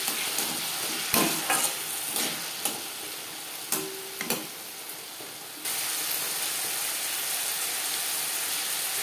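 Potato pieces fry in oil in a pan for a vegetarian aloo bhindi curry, giving a steady broadband sizzle with scattered scraping clicks of stirring, close and fairly loud, and the hiss grows louder near the end; no talking.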